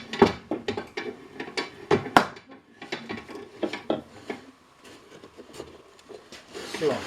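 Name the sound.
tightening screw of homemade clamping tool on oak barrel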